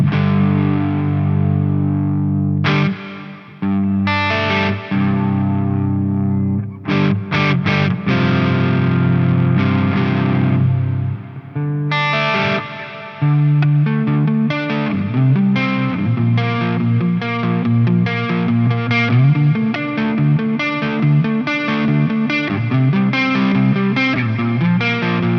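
Electric guitar played through a Neunaber Audio Expanse reverb pedal, chords and picked phrases ringing out loud and sustained with a washed, lingering tail, no talking.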